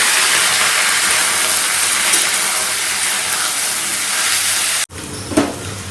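Panch phoron and dried red chillies tempering vegetables in hot oil, a steady loud sizzle and hiss that cuts off abruptly near the end, followed by a softer frying rustle.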